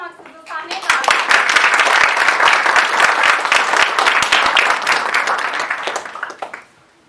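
Audience at a cultural and literary gathering in a library applauding to welcome a union president to the stage; dense, loud clapping that swells quickly, holds steady for several seconds, then tapers off.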